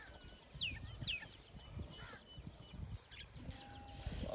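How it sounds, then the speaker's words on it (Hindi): A hen and her chicks cluck and peep close by in a farmyard livestock shed, with a few sharp high chirps early on and soft clucks over low rustling. "ये मुर्गी है, ये मुर्गी के बच्चे हैं"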